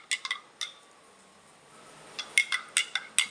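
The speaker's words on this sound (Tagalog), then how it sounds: "hahaluin ko lang po yan" A spoon clinks against a glass while stirring a barley drink, with a few sharp taps, a quiet pause, then a faster run of ringing clinks close by.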